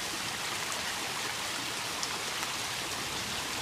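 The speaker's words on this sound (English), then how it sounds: "So, there's a bad storm out here, pretty bad, dark sky." Heavy rain pours during a bad storm in Illinois, a dense steady hiss of falling water, constant and fairly faint, with no voices.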